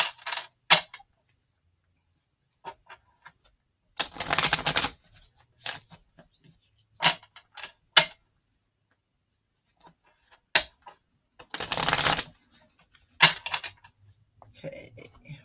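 Tarot cards being shuffled by hand in short bursts of riffling and tapping, with several louder flurries of card shuffling between quieter taps and pauses, close up.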